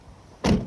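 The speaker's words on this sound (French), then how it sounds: "la portière aussi est géniale à ouvrir" A 2024 Land Rover Defender door opens with a single solid mechanical clunk and brief rush, loud and close after a near-silent moment.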